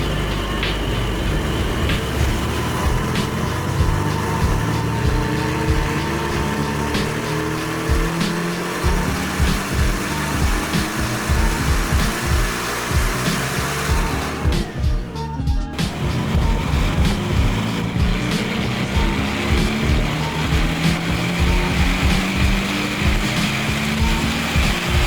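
A tuned 450bhp stage 2 Porsche Cayman GTS engine runs on a dyno, a loud, continuous, rumbling roar with a pulsing texture and a brief dip partway through.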